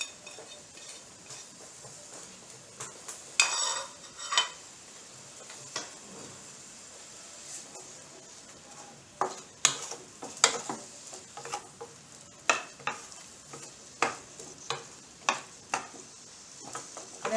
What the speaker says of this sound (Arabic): غادي ناخذ مقله غادي ندير فيها زيت الزيتون، غادي ندير فيها البصله تشحر شي